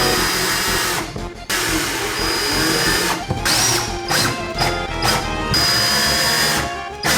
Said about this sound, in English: I drilled it into a bit of wood for maximum jank